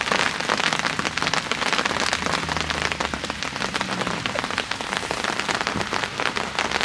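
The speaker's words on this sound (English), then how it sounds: "we got some hailstorm going on" Hail pelting steadily during a midday storm at a fishing lake, a dense, continuous hiss and patter of many small impacts, loud and close, with no voices.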